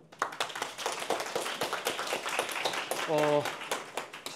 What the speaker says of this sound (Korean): 네, 박수로.